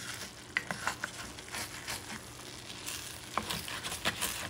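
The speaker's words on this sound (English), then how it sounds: "But I'm going to move it around, stir a little bit." Creole-style jambalaya being stirred in a pot, a soft continuous sizzle with scattered light scrapes and taps of a spoon against the pot, fairly faint and close.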